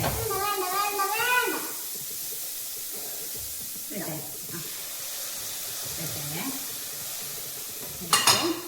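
Sautéed onions stirred with tomato paste in a pan for pasta make a continuous sizzle with scraping stirs. People talk over it, and a sharp spattering hiss rises near the end.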